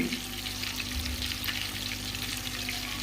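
Desi-style fish pakoras frying in hot oil give a dense, steady sizzle and crackle throughout, close and continuous with no talking.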